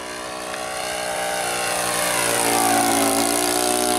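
Great Planes Super SkyBolt 1450mm RC biplane with a Saito 125 four-stroke engine making a pass, a steady droning engine tone that swells louder as it approaches.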